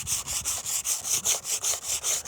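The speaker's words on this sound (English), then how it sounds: "Like now I'm using like 100 grit sandpaper and I just hit it like this here." Hand sanding a Ford Explorer car body with 100 grit sandpaper, about eleven brisk, even back-and-forth scraping strokes in a steady rhythm, loud and close with no talk.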